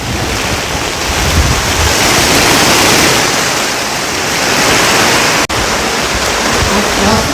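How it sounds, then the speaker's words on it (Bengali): Heavy rain pours steadily onto a rooftop during an early-season storm, a loud continuous broadband roar with wind buffeting the microphone and no speech, briefly dropping out near the end. "এই হচ্ছে ছাদের অবস্থা, প্রচণ্ড বৃষ্টি হচ্ছে।"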